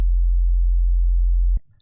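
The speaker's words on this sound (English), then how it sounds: "I prepared an operator with a sine wave." A clean, pure low sine tone from Ableton Live's Operator synth holds steady for about a second and a half, then cuts off abruptly with a small click, leaving near silence.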